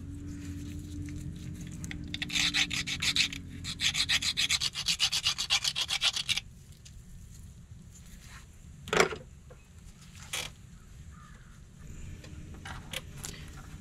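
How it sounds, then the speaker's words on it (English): A file rasps inside a Honda Civic front brake part in bursts of quick rhythmic strokes, close and fairly loud, then gives way to a few sharp handling knocks and quieter rustling. "I like to file inside of here a little bit too."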